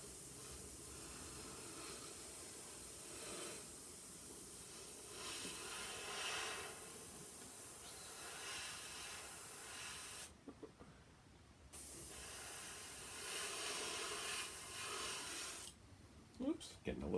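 An airbrush sprays paint onto graphics artwork as a steady, close hiss that runs continuously, breaking off briefly twice when the trigger is released and then resuming, with faint spitting near the end.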